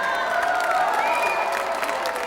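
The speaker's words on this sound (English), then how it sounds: "So please keep clapping, guys." A crowd claps and cheers at a summer dance academy show, a dense continuous roar of applause with whoops and shouts rising above it.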